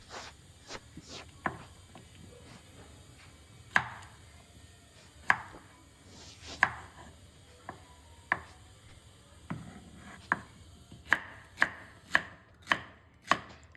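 A knife chops okra into small pieces on a board, with sharp, distinct cuts at an uneven pace that grow quicker and more regular toward the end. The sound is close and quiet, and no one is speaking.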